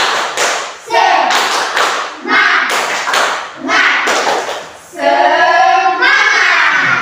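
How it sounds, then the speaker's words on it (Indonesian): Classroom spirit-clapping routine: a group claps in short rhythmic bursts, sharp taps and thuds in a patterned sequence, interleaved with children chanting along, the final stretch mostly loud chanting voices. "Tepuk semangat."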